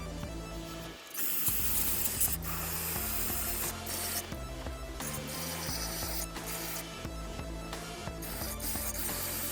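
Brake cleaner hisses from an aerosol can in steady bursts over Acura MDX front brake parts, with short pauses between sprays and some rubbing and handling noise close by.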